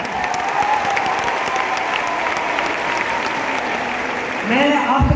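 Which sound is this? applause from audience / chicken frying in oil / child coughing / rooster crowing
applause from audience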